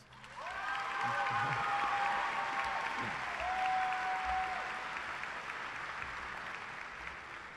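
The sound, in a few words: graduation ceremony audience applause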